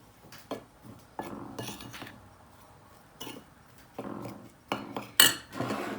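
Dry ingredients for fried chicken being mixed in a bowl, with a run of clinks, scrapes and utensil taps against the bowl that grow sharper and louder toward the end, close up and without talk.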